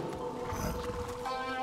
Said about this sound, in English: Oh shit, that is a bear.